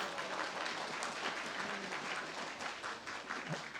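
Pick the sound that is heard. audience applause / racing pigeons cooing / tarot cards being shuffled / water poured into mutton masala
audience applause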